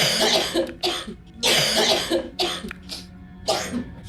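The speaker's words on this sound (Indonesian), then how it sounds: "tiba-tiba batuk" Several harsh, bursting coughs come in a close-up fit, each a rough explosive bark separated by short gasps, with no talking.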